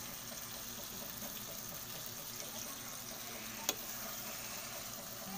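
Sugar being stirred slowly in a pan, a steady low sizzle and soft stirring hiss throughout, with one brief sharp tap of a utensil near the end.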